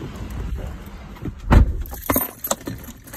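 Car keys jangle and drop onto a surface inside a vehicle after a fuel stop, a brief bright metallic clatter near the middle followed by a few lighter clinks, close and fairly loud against low interior rumble.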